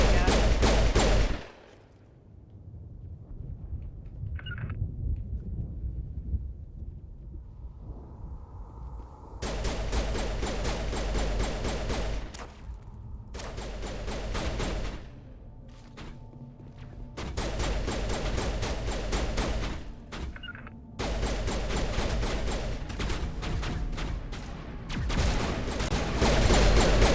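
Bursts of rapid gunfire in a Mass Effect firefight, several long loud volleys broken by short quieter gaps, with a few brief talking moments in between.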